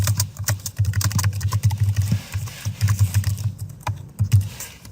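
Computer keyboard keys tapped in quick irregular bursts with short pauses, close and clear, over a steady low hum in the background.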